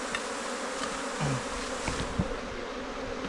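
Bees buzz steadily at close range while a wild cavity-nesting colony's comb is harvested. The hum is continuous and dense, with a few brief louder passes and no talking.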